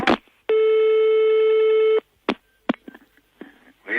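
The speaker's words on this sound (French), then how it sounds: "Mon téléphone." A telephone's steady electronic tone sounds loud and close for about a second and a half, followed by a few short clicks and knocks as the handset is picked up.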